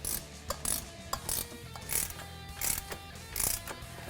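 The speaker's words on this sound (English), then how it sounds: "Now tighten up the bolts." A ratchet clicks in short, quick bursts while tightening the exhaust bolts of an aFe cat-back system on a 2015 Ford F-150. The strokes sound close and fairly quiet and are heard without talk.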